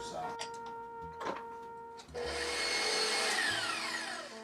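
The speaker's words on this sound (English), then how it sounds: "we're going to whisk about a half a cup of it" Creme fraiche, about half a cup, whisked by hand in a bowl for French Laundry-style cooking, giving a steady close scratchy whirring after a few brief clinks and knocks at the start.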